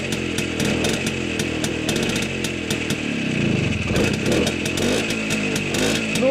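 1970 Minsk M105 motorcycle engine running: a close, loud two-stroke buzz idles and revs up and down, its pitch sweeping with the throttle, steady throughout with no talk.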